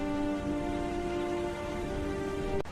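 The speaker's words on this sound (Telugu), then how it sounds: "ఒక రాత్రి వర్షం కురుస్తోంది." Rain falls at night as a steady, moderate hiss of drops, running alongside a sustained tonal hum for nearly three seconds, with a sharp click at the very end.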